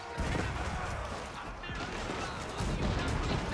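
Cannons and bombards firing in a battle in the video game Age of Empires IV, a dense stream of booms, crashes and clatter that continues throughout, with a commentator talking over it.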